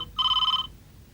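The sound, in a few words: telephone ringing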